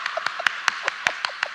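A church congregation claps in a loose, irregular rhythm of about eight sharp hand claps, moderately loud and close, with no clear laughter standing out.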